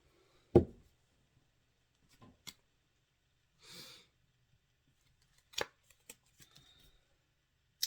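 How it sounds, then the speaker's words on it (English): A deck of tarot cards being cut by hand, heard as a few sharp, close card slaps and soft papery rustles spread across quiet pauses, with a faint breath in between. "I just cut the deck to the malachite."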